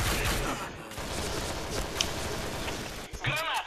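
Rapid automatic gunfire fills a match of the shooter game Point Blank on the Redfield Library map, a dense, continuous burst of shots that ends in a brief pause and a final flurry.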